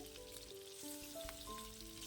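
Fish sizzles in coconut oil in a flat non-stick pan, a soft, even crackle that stays low and steady throughout, close by with no talking.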